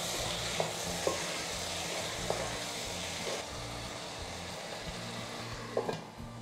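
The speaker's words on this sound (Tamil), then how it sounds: "2 நிமிஷத்துக்கு அப்புறம் கிளறி விடுங்க." Chayote kootu being stirred in a pan on medium flame after simmering covered, with a few soft scrapes over a constant low hum and faint sizzle, close by.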